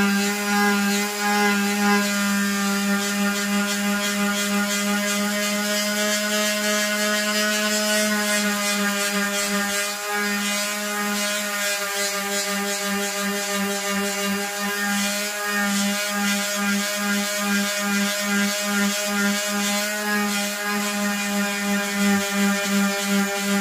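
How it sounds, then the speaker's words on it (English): A power sander runs steadily on light filler over a mini monitor speaker cabinet, fitted with fine P240 grit: a continuous, loud whirring drone with a strong tonal hum that holds level for the whole stretch, with no talking. "Stick it onto our sander there, and we'll get cracking on that."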